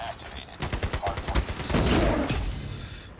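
Rapid bursts of DRH rifle fire in a ranked first-person shooter match, a quick string of sharp, close shots followed by a louder, denser barrage with a faint voice mixed in.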